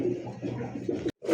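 Pigeons, a matched pair of red-eyed birds at a pigeon market, give short soft coos close by, broken by a brief gap before a final coo.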